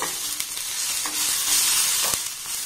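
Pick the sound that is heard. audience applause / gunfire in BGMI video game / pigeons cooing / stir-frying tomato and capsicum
stir-frying tomato and capsicum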